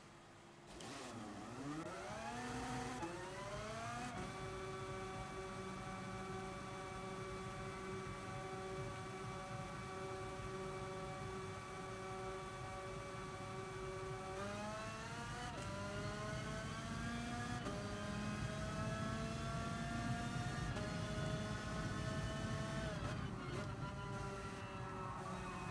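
A race car in the Gran Turismo Sport video game drives a Grand Touring Series league race, its engine revving loudly and continuously, pitch climbing and dropping through repeated gear shifts with no talking.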